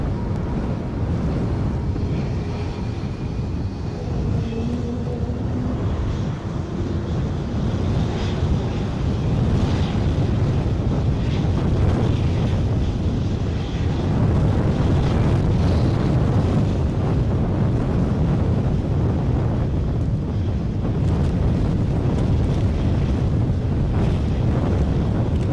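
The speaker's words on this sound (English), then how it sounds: "Been caught by a freak gust." Strong, sustained wind gusts buffet an outdoor microphone at a scenic Edinburgh plane-spotting spot, a loud continuous low rumble that swells and eases in waves for the whole stretch.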